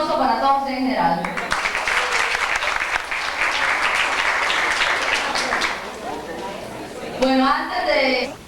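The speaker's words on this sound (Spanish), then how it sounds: "un fuerte aplauso para todos en general" An audience at a university natural sciences research seminar claps in a full, sustained round of applause lasting several seconds, with a speaker talking before and after.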